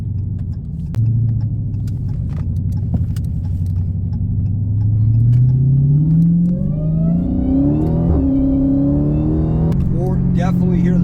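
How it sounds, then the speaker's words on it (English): A 2015 Dodge Hellcat with a 6.2L supercharged Hemi and a K&N cold air intake accelerates on the road. The engine rumbles steadily, and a rising supercharger whine climbs as the revs build. It is loud and close, with no talk. "You can really hear the supercharger whine."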